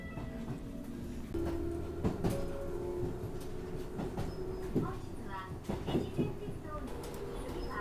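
A train at a station in Fukui, Japan, rumbles and clacks over the rails with sharp metallic knocks. Birds chirp faintly in the background and a few voices are heard.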